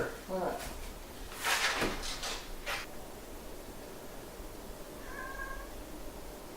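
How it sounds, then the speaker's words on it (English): A house cat meows once, short and fairly faint, in a room where a PC is being built, following brief bursts of nearby human voices and clatter. "Cat sound."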